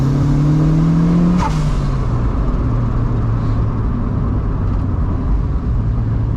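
A turbocharged NA Miata accelerates along a canyon road, its engine note climbing steadily in pitch as revs build, loud and close with wind rush throughout.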